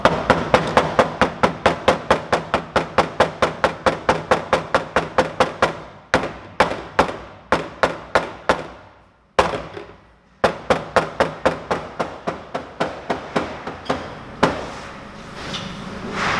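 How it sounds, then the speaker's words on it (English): Soft mallet tapping on a car part during work on a bagged Toyota GT86, a long run of rapid, even, close thuds that slow into spaced taps after a brief pause. "so now I've got a little soft mallet"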